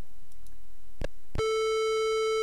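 A short clunk of a receiver being picked up, then a steady telephone busy tone begins and holds, from the Zak McKracken video game, with no talk.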